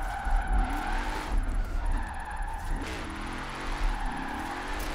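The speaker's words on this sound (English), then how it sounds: "this was probably my favorite and best drift car when it came out" Tyre squeal from a drift car with very wide rear tires in a racing video game, steady engine drone and screeching slides running throughout the clip, loud and close.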